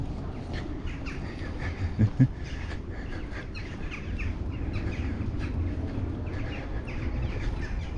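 Birds call outdoors on a hot summer day in the countryside near Norwich, England, with a brief pair of louder squawks partway through over a steady wash of ambient chatter and distant calls.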